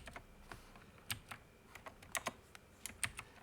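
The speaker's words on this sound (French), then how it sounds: "On fait un CTRL X, on va couper." Computer keyboard keys click in a quick, quiet, irregular series of taps during a Ctrl+X cut shortcut while coding, close up and without speech.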